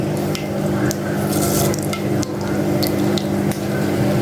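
Steady crackling and sizzling of mustard seeds spluttering in hot oil, with sharp pops scattered throughout, close and fairly loud.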